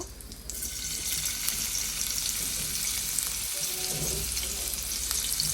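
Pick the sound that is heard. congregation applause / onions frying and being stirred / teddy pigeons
onions frying and being stirred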